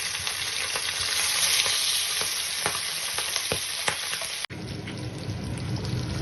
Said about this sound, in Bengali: আমার মাছ ভাজা প্রায় কমপ্লিট